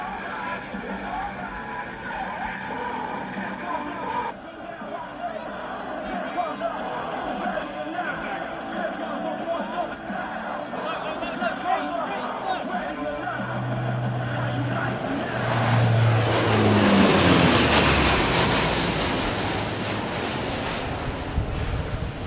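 Aircraft engines of an air show display team start up together at a Memphis, Tennessee show, a broad roar that builds into a loud whine near the end under a public-address announcer.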